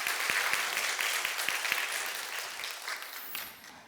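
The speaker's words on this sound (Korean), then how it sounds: "하나님께서 우리들에게 주신 귀한 은혜에 감사의 박수 한번 드리도록 하겠습니다." Congregation applauding during a Korean Presbyterian church Sunday service in Seattle, a dense, steady wash of many hands clapping at moderate distance, fading slightly toward the end with no talking.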